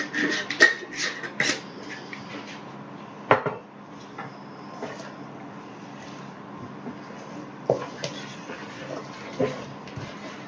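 Oatmeal raisin cookie dough being mixed in a bowl, a spoon scraping and knocking against the sides in scattered taps and scrapes over a quiet room.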